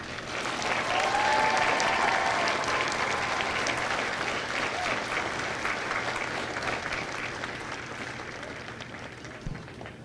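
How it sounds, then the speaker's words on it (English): Steady, dense applause from a large audience at a Marine Corps recruit graduation ceremony, sustained for about ten seconds and slowly tapering, with no talk over it. "please join me in a round of applause for the company staff of Company D."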